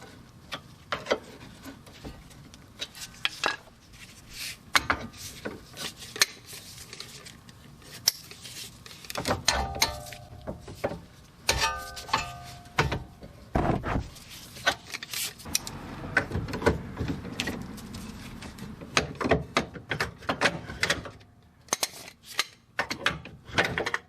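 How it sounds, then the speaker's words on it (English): A wedged control arm on a 2010-2016 Buick Lacrosse is pried out with a pry bar: irregular metallic clanks, scrapes and knocks come in bursts over a steady background, with sharper taps clustered midway through. "just get a screwdriver or pry bar. You're going to have to pry it out because it is going to be wedged in there"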